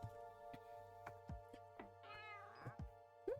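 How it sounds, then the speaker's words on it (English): A pet cat meows several times in a row, fairly quiet and close, with short, separate calls and a longer wavering one near the middle. "First thing I hear when I come back is my cat."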